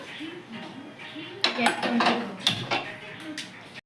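A metal frying pan is handled on a stovetop, clanking and scraping near the mic in a short burst of loud knocks and rattles before settling.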